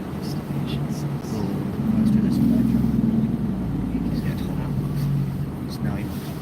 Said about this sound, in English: Get away from us in your cheap little car, bud.